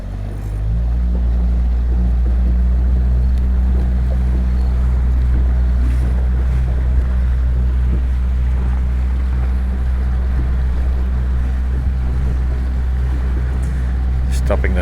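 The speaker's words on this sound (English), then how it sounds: "So motor's still going." A sailboat's motor drones steadily as she heads straight into the breeze at sea, a loud continuous low rumble mixed with wind buffeting and water wash, with people talking over it throughout.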